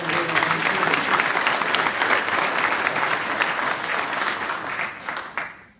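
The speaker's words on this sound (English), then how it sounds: "Let's give a round of applause." Loud, sustained applause from the guests at an 80th birthday party, dense and steady from nearby before tapering off and dying out near the end.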